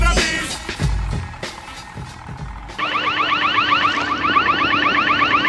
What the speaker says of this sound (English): That's the sound of the police.